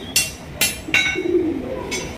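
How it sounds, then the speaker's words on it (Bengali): Blue bar racer pigeons for sale give a soft low coo between several sharp flutter-like bursts, close by with little background noise. "দর্শক এখানে রয়েছে একজন ব্লু বালেস রেসার কবুতর"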